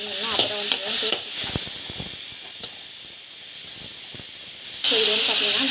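Mango, tomato and coconut chutney ingredients sauté in a pan with a steady hiss and sizzle, broken by occasional stirring scrapes and clicks, close and moderately loud, with a voice speaking briefly near the start and end.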